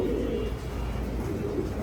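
Pigeons cooing in a loft, where soft low coos murmur close by over a steady background hum for a couple of seconds.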